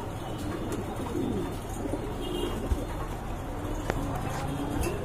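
Short-faced double-barred pigeons at a pigeon sale give low, soft coos that run steadily under a busy, noisy background.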